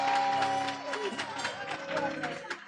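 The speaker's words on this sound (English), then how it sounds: "clap your hands and applaud God" Church congregation claps and cheers together in a lively rhythm, voices and a sustained organ-like tone mixed in, the sound full and close throughout.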